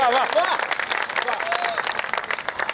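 Dense applause from a crowd at a poetry recital, steady and fairly loud, with a voice speaking briefly over the clapping at the start.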